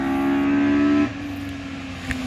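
A race car engine roars loudly in a steady high drone outside a house, then drops off as it passes, leaving a lower rumble with a brief click near the end.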